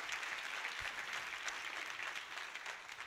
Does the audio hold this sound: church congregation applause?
yes